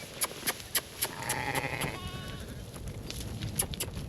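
Sheep on a South Dakota cattle ranch during spring work, one nearby bleating in a drawn-out call over a steady outdoor background, with sharp clicks and knocks dotted through.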